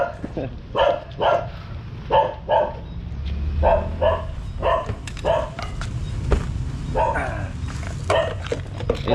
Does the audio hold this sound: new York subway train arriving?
no